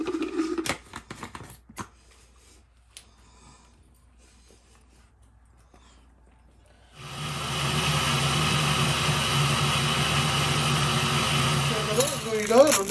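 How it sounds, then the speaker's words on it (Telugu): A kitchen mixer grinder blends water, ginger, mint and salt for pani puri. After several seconds of near-quiet with scattered clicks, the motor starts with a loud, steady whirring roar that runs to the end. "వాటర్ వేసి ఇప్పుడు గ్రైండ్ చేస్తాం"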